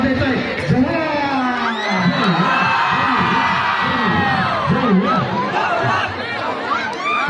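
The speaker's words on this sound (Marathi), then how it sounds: "जव्हार संघ मात्र जल्लोष करतोय" A large crowd cheers and shouts for the Jawhar team at a packed local match between Shahapur and Jawhar, a loud, continuous roar of voices with whoops and children's shouts throughout.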